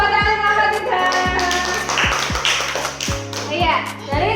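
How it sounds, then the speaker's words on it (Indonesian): A classroom of children claps for a group at the end of a presentation, with irregular taps and a brief burst of clapping mixed with kids' voices and chatter throughout. "Tepuk tangan kelompok 3"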